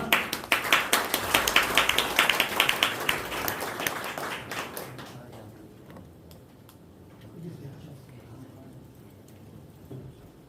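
Audience applause at a Korean rescue organization's presentation event greets the training center director, loud brisk clapping for about five seconds that then thins to scattered claps and quiet room noise.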